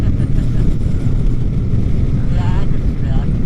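A 2003 Harley-Davidson Sportster 100th Anniversary motorcycle rides along country roads. The engine drones continuously and loudly under heavy rushing wind noise, with no break in the roar.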